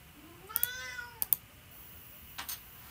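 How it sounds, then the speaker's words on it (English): Pet cat meowing indoors, a drawn-out rising meow followed by a shorter one, faint and close, alone without talk. "Sorry about my cat."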